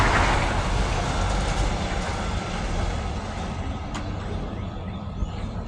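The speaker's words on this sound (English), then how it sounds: "wait for this truck to pass by" A loud, broad rumble of a heavy vehicle dominates, slowly fading as it passes by outdoors.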